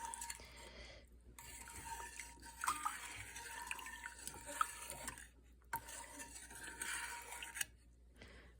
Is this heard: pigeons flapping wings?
no